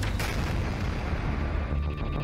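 A loud, sustained boom rolls on for a couple of seconds, thick with deep rumble and wide noisy energy, like a nearby blast and its aftermath.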